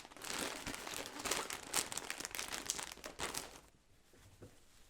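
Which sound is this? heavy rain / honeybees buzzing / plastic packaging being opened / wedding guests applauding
plastic packaging being opened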